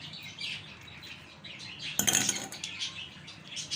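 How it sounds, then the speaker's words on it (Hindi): Ice cubes dropped into a glass while preparing fresh peach juice, a brief clinking burst of several knocks against the glass, close and fairly quiet, with faint background noise around it. "तो अब जो है गिलास के अंदर हम डालेंगे बर्फ़।"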